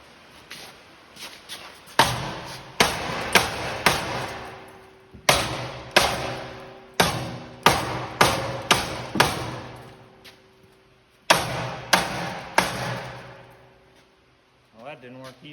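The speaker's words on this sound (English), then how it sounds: "When all else fails, get a bigger hammer." A large hammer pounds on broken metal equipment in loud, sharp blows, struck in clusters of several quick hits with short pauses between the rounds.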